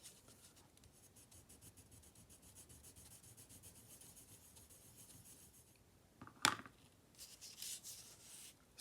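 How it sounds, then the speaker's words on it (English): A colored pencil rubs and scratches on paper while coloring a holiday card, with steady soft strokes that end in a few sharper scrapes and taps. Close and quiet, with no talking. "Get my blue pencil."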